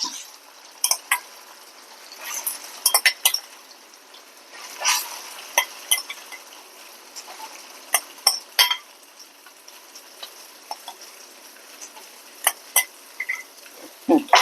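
Onions and vegetables for tapioca biryani sizzle and crackle steadily in a hot pan, with sharp scraping clicks of a spatula stirring at irregular moments throughout.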